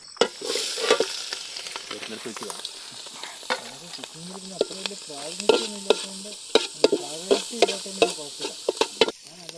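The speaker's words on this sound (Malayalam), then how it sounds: "സോ അതിലേക്ക് നമ്മൾ പ്രിപ്പയർ ചെയ്ത് വെച്ച മസാല, നമ്മൾ നേരത്തെ അൽഫാമിന് വേണ്ടി പ്രിപ്പയർ ചെയ്ത മസാലയില്ലേ, നമ്മൾ അതിൻ്റെ അകത്ത് ആഡ് ചെയ്യാണ്." Cooked clams being stir-fried in a pan with prepared Alfaham masala, a steady sizzle broken by repeated scraping and clinking stirs, close and fairly loud with no talking.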